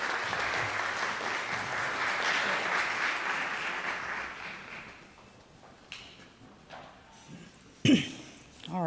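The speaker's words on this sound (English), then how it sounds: "Let's give them another round of applause, please," Audience applause in a conference hall as panelists leave the stage: a dense, even roar of clapping that holds for several seconds, fades away, then gives way to scattered sounds and a voice speaking.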